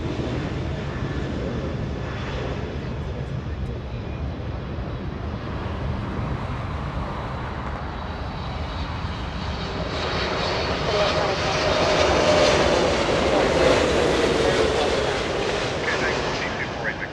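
Boeing 777 jet engines roaring at Los Angeles International Airport, a steady loud broadband rumble that swells and grows louder toward the end, with a rising whine from about the tenth second.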